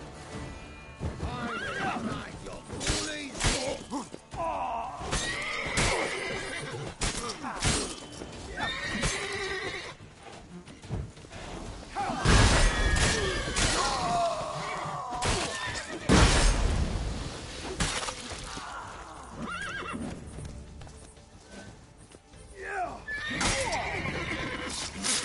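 A horse in The Witcher 3 neighs and whinnies repeatedly alongside clip-clop hoofbeats and game combat noise, loud and close throughout.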